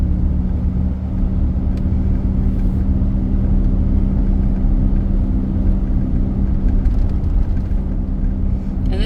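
Steady low engine drone and road rumble from a 2002 Ford Explorer Sport Trac with a 4.0 V6 while driving, continuous and even in level throughout.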